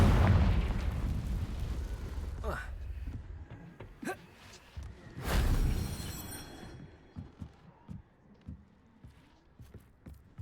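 Confringo blasting spell explosions in Hogwarts Legacy: a booming blast near the start and another around the middle, each fading into rumbling debris, followed by scattered smaller thuds and footsteps.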